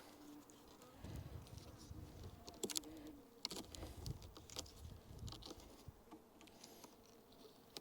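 Low, steady buzzing of honeybees close by during honey extraction, with faint tapping and rustling noises over a quiet background.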